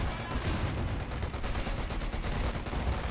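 Sustained battlefield gunfire in Company of Heroes 2, with dense overlapping shots and bursts forming a continuous loud rattle throughout.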